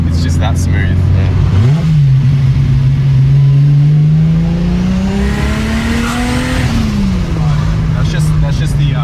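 A turbocharged car on 4 pounds of boost revs hard, its engine tone sweeping up and holding before dropping off, with the wastegate hissing and fluttering near and loud throughout.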